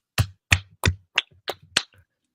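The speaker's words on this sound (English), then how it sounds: "Clap that up." Six sharp hand claps in a quick, slightly uneven sequence, close and dry with silence between them, then nothing.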